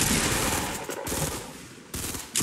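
Rapid gunfire from the video game Fortnite, bursts of shots crackling across the whole clip with brief dips between volleys, loud and close in the game mix.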